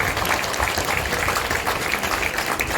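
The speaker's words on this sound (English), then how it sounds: "let's give Scott one big round of applause" Crowd at a getaway event applauding a guest named Scott, dense, loud, continuous clapping throughout, with no break.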